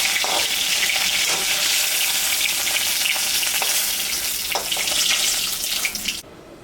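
Hot oil sizzles and crackles steadily in a pan after a mrigal fish head has been fried, a dense close hiss that runs continuously and cuts off abruptly near the end.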